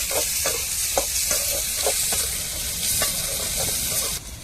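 Small shallots sauté in hot oil in a pan, a steady bright sizzle with repeated scraping stirs of a spatula at roughly half-second intervals, close and continuous, no voices.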